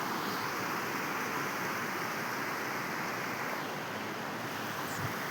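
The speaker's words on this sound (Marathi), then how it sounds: "नदी वाहते" A river in the rainy-season countryside beside farm fields flows with a broad, continuous rushing wash that stays steady and fairly loud throughout, with no voices.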